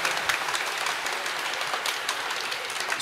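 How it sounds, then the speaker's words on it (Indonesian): Applause from a church congregation for a performance by children from SD Canisius Soro Baja, a steady crackle of many hands clapping that stays fairly even and moderate throughout with no voices on top. "Tepuk tangannya kurang meriah ini."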